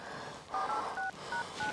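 Phone keypad dialing in a Haryanvi comedy drama, a quick series of about five crisp touch-tone beeps, evenly spaced over a faint room background.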